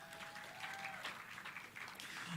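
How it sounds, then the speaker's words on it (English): Audience applause at a church singles ministry introduction, a steady wash of clapping from a crowd that holds for a couple of seconds, with a faint voice and a tone running briefly beneath it. "Feel free to give a round of applause, please."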